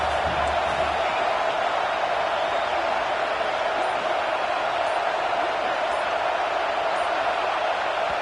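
A football stadium crowd at a New Mexico versus Oregon game roars in a loud, steady, continuous wall of noise that holds at full level throughout without letup.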